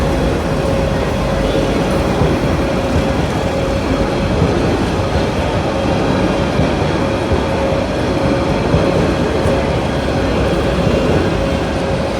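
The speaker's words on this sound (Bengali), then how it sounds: "জুরাইন রেলগেট থ্রু পাস করছে ঢাকাগামী নারায়ণগঞ্জ কমিউটার" A Dhaka-bound Narayanganj Commuter train thunders through the Jurain rail gate, a loud, unbroken rumble of wheels and carriages holding steady close by for the whole stretch, with no voices.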